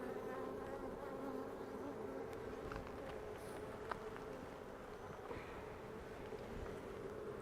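Honey bees buzz in an open, queenless beehive during an inspection, a dense, continuous close-up hum with no talk and only a few faint ticks over it.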